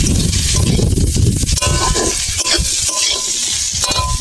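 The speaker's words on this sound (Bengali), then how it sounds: "দিয়ে আবার একটু নেড়ে নেবো ভালো করে।" Greens with a little sugar being stirred in a frying pan, a steady scraping and stirring over continuous loud sizzling, close and busy throughout with no talk.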